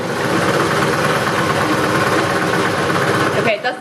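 A 1930s vintage sewing machine's electric motor runs after being plugged in, giving a loud, steady mechanical whir and hum that carries evenly for several seconds before cutting off abruptly near the end.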